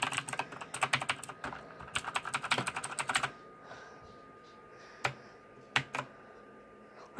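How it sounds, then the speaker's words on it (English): A new mechanical computer keyboard is typed on in quick bursts of sharp, close clicks for about three seconds, then a pause broken by a few isolated key presses. "check out the new and improved mechanical keyboard"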